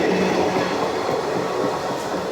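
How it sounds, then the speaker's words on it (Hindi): The Pratapgarh–Kanpur Central Intercity Express passes close by, a loud continuous rumble of rolling wagons with a faint clatter of wheels on the rails. "Pratapgarh Kanpur central intercity express"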